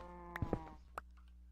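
Cows moo in a short, low lowing call that drones briefly with harmonic tone, sounding moderately close and fairly quiet, followed by a couple of faint clicks.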